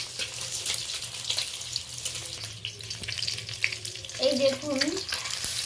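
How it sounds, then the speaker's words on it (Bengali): Red eggs from free-range country hens fry in a well-heated kadai, giving a steady close sizzle and crackle throughout, with a brief voice speaking over it. "হালকা লালচে করে ভেজে নেব ডিমগুলো।"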